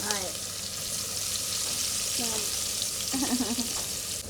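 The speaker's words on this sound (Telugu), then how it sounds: "ఇప్పుడు అదే నూనెలో ఉల్లిపాయలు అయితే వేసేస్తున్నామండి" Onions sizzle steadily in hot oil in a home kitchen, with a loud close frying hiss throughout and brief stirring sounds mixed in.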